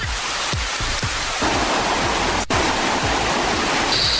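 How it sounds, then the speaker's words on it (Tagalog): Rushing water at a waterfall in the Philippines, a loud, steady broadband roar that fills the whole clip, with a few faint low thumps underneath and no talk. "Ito ang falls."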